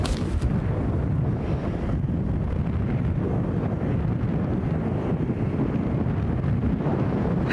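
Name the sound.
strong wind blowing on golf course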